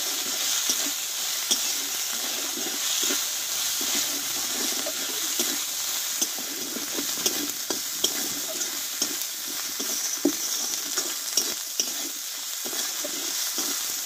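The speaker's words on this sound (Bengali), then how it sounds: "এই মশলাটা ভালোভাবে কষিয়ে নেব।" A spice masala with tomato and salt is sautéed in a pan, making a constant close sizzling hiss broken by frequent small scraping and stirring knocks, with no speech.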